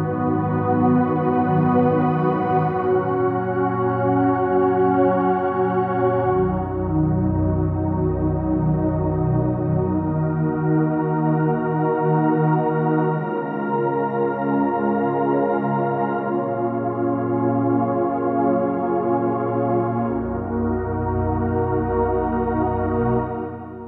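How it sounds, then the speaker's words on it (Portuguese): Synth pad played on a keyboard, sustained warm chords that shift slowly and swell across the whole stretch, steady and alone with no voice. "Então esse é o som do pad."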